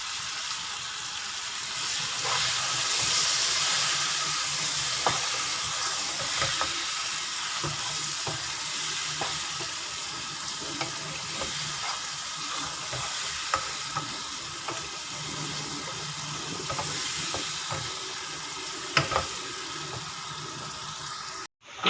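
Sliced tomatoes sizzling and being stirred in a handi of frying chillies, a steady close crackle with occasional clinks of a spoon running throughout.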